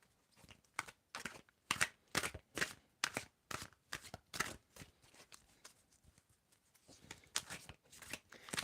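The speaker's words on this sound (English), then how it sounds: "Okay, and let us shuffle this." Tarot cards shuffled by hand in a series of quick riffling bursts, close and crisp, repeating at a steady rhythm with brief pauses between shuffles.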